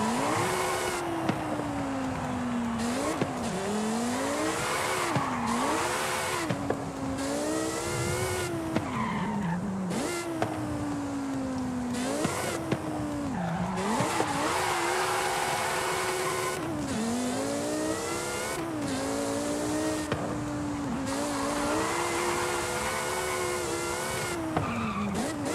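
A tuned car in Forza Horizon 5 revs hard to around 9500 RPM, its engine note climbing and dropping in repeated sweeps while tires squeal and skid through drifts, loud and continuous with no talking.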